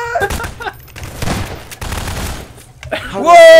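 Submachine gun fire from the SMG in the Garry's Mod Prop Hunt game, a run of loud, rapid shots spread across the clip, mixed with other game noise and some voices.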